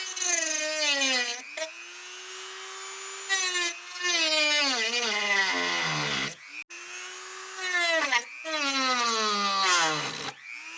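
A Dremel cutoff wheel cuts away a plastic post on an electric pressure washer, producing a loud, close, high-pitched whine that dips and rises as the wheel bites into the plastic, in several repeated passes.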